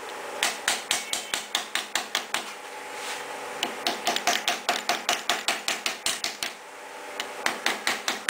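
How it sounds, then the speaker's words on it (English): Mallet tapping on a Royal Enfield upper engine part, rapid bursts of sharp knocks in quick runs with short gaps, close and clear, no talk over it. "If it is jammed, then you can use mallet for tapping."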